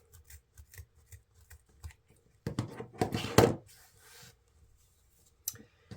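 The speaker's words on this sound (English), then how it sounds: "we cut all of our ribbon tails that we needed in one motion" Scissors cut through ribbon tails for a wreath: quiet, evenly spaced snips, then a burst of louder rustling and crunching blade strokes through a stack of ribbon, and a final small snip.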